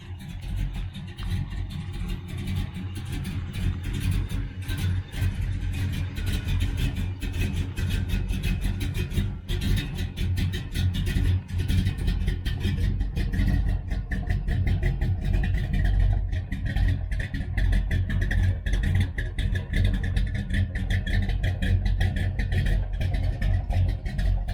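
A 1966 Dodge Charger with a Holley 4150 carburetor drives slowly through a neighborhood, its steady engine rumble loud and close throughout with mild swells as it pulls along.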